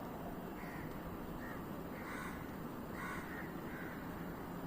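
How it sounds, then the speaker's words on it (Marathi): Faint bird calls scattered over a low, steady rumble, a few short cries repeating at intervals in a quiet dawn setting. "शांतता एकदम फक्त पक्षी जागे झालेत आता"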